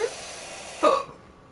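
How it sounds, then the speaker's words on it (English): A single short belch, brief and close, rises out of a quiet background with no talking around it. "belch."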